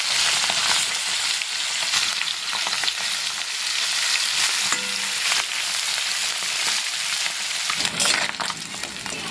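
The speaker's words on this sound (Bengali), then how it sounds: "সাদা তেলে আমি মাছটাকে ভেজে নেব।" Tengra fish frying in hot white oil, a loud, steady, close-up sizzle that crackles and spits continuously throughout, with no talk.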